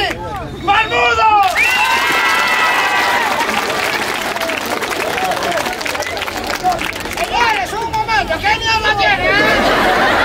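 A comedy show audience bursts into loud applause with whistles, shouts and cheering, the clapping continuing steadily throughout amid crowd chatter and voices, swelling again near the end.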